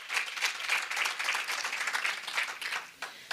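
Audience applause at a National Archives Week event, a steady wash of many hands clapping throughout, fairly loud and close, tapering slightly near the end.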